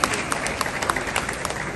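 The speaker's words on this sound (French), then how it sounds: "On nous applaudit s'il vous plaît." An audience at a celebration of rural women in Limonade claps steadily, a brief patter of applause at moderate distance with faint voices underneath.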